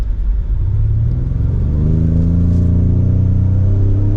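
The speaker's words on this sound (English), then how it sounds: "So let's give it a little bit of gas." A 2025 Ford Explorer Active SUV in sport mode accelerates from inside the cabin, its engine note rising in a steady, loud drone with climbing pitch and low rumble throughout, no talking.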